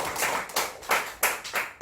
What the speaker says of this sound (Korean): 우리 하나님께 감사의 박수를 올려드립니다